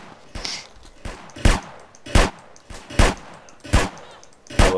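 Desert Eagle pistol shots in GTA San Andreas Multiplayer, roughly seven heavy, punchy single shots fired at a steady, measured pace, loud and close with no voices.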